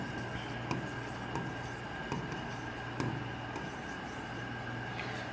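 Chalk scrapes and taps on a board during a maths lesson on linear equations, faint and continuous against a noisy room background, with a few sharper tap strokes.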